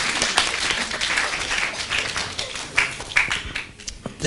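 An audience at a meditation talk by a Buddhist monk gives a round of applause, a steady wash of many hands clapping with a few sharper individual claps standing out.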